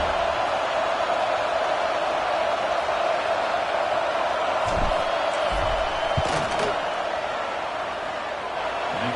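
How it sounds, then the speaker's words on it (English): A football stadium crowd roars steadily and loudly as a kicker lines up a field goal, with a sustained wash of crowd noise, a few thumps and whoops, and no distinct talk over it. "This crowd trying to do its part to get inside the kicker's head."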